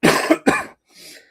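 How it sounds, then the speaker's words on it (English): A person who is under the weather coughs twice in quick succession, close and loud, followed by a softer breathy exhale or throat sound. "if I keep coughing, I apologize"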